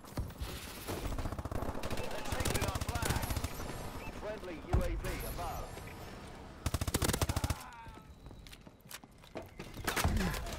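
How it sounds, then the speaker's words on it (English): Rapid SMG gunfire in Call of Duty: Advanced Warfare, on the Atlas Gorge map, with bursts rattling through a busy battle mix over most of the stretch, joined by other shots and footsteps. "trying to shoot him with an SMG"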